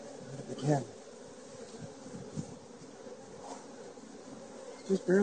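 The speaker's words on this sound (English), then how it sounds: "Oh, look at all those bees." Honey bees buzz steadily around an opened hive on a cool day of about 60 degrees, a continuous low drone with a few louder close passes and short bursts as individual bees fly near.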